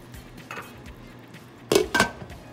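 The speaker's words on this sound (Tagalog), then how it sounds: "tatakpan ko siya ulit para lumambot yung kalabasa natin" A metal lid set back onto a cooking pot of simmering beef and squash, two sharp close clanks near the end after faint kitchen rattles.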